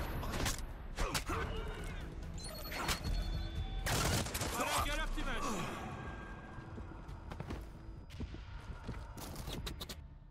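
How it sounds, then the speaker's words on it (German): Sharp bursts of gunfire crack in quick flurries over a busy Splinter Cell Blacklist game soundscape, with voices talking throughout and a clattering, hoof-like rhythm underneath. "die Schüsse kamen von da drüben"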